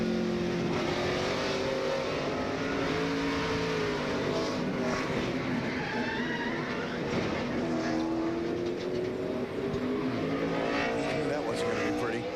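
A NASCAR race car engine roars from an onboard camera at Phoenix in the 2004 Bashas Supermarkets 200, a loud continuous high-revving drone with shifting pitch throughout, with commentators talking over it.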